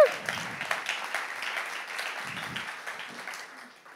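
Audience applause at a church talk, a moderate, somewhat distant patter of clapping that starts strong and gradually thins out and fades over four seconds.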